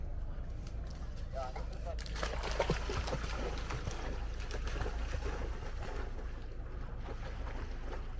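Water laps and swishes around a boat on the water at a campground in Grünheide, Germany, with people talking indistinctly in the background.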